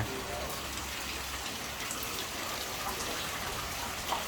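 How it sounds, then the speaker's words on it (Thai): Steady, soft hiss of rain falling, even and continuous throughout, quiet and somewhat distant. "ฝนตกนะครับผม"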